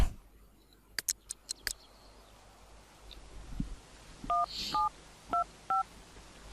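Dialing beeps from a phone in The Sims 3 video game: a few quick clicks, then a short run of paired DTMF-style tones in steady rhythm, clear and close over quiet background.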